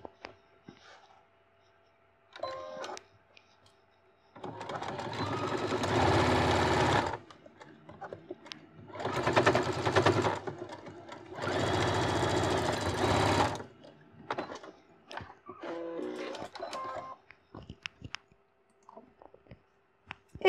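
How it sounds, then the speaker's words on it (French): A sewing machine stitches across the zipper end of a square fabric pouch in three steady whirring runs, the last two close together, with quiet handling clicks in the pauses between them. "je vais coudre de façon à bien couvrir l'extrémité du zip"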